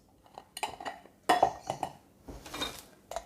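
Oven-proof ceramic serving dishes knocking and clinking together as they are handled in a kitchen, a run of irregular hard clatters and scrapes, close and distinct with no talking.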